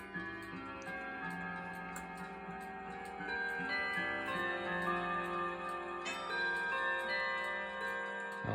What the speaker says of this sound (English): you can hear all the clocks going off